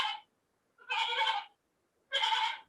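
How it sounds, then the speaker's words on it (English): Sheep bleating out in a field, three separate loud, wavering bleats with short quiet gaps between them and no other sound. "as you can hear, the sheep are out there"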